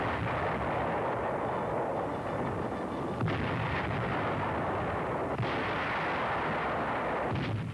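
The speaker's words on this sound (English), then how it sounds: "Landings are made under a naval barrage." Naval artillery barrage during the D-Day landings, heard on archival film as dense, continuous booming and rumbling with a few sharper blasts standing out, loud and unbroken, no voices.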